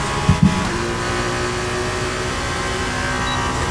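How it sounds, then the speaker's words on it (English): A Porsche car in a racing video game accelerates away, its engine droning steadily at mid pitch after a couple of brief knocks at the start, loud and sustained with no talking. "Porsche is about to take off"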